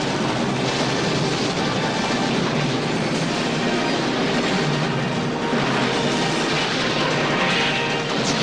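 A runaway train from the 1995 film Under Siege 2: Dark Territory rumbling along at speed with steady clattering wheels and occasional squeal, loud and continuous throughout.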